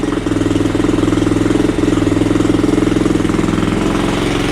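A Boom Vader Grom clone minibike engine idles on its first start, a close, steady rapid putter through the exhaust with a brief hitch early on, with no talking.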